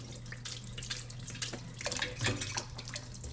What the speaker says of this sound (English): So I'm gonna empty the water out.